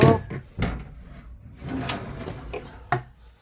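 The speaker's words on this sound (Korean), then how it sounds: "여기도 문 좀 열어야 되겠다." A wooden door or cabinet on a hot rooftop is handled with a few knocks and scrapes, then a sharp bump near the end, close and fairly quiet with brief pauses between the sounds.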